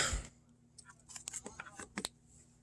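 Tarot cards of 1st-edition cardstock being shuffled by hand, a quiet run of crisp flicks and clicks at close range.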